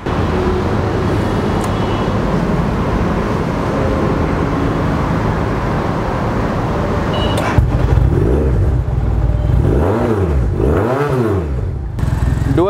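A Thunder R3 dual-cylinder motorcycle, a Yamaha R3 replica, idles with a steady close rumble, then gets several quick throttle blips that rise and fall sharply in pitch.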